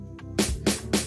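Two layered Amapiano snares programmed in FL Studio, one kept low to blend with the other, give three bright, loud hits over a quiet low backing in a brief pattern.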